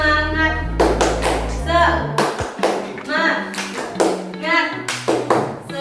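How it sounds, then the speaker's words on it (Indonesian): A class of children performs a rhythmic clapping chant in an elementary classroom, with loud, sharp claps landing in quick patterned bursts between shouted chanted syllables and voices. "Tepuk semangat"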